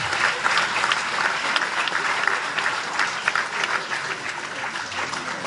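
Dense, sustained audience applause fills a label award evening, steady and loud throughout with no break, many hands clapping at once across the room.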